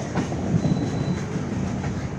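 A passenger train on the Chennai to Kolkata route runs along its rails, heard from inside the carriage as a steady rumbling roar with soft rhythmic clatter from the wheels and a faint high squeal, no voices.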